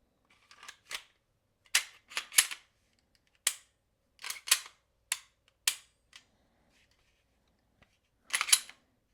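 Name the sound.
slide put back on Canik TP9SFX pistol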